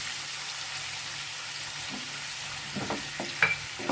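A paste of onion, cumin, tomato and ginger frying in a pan, low steady sizzle that turns busier near the end with a few brief scrapes and clinks of stirring.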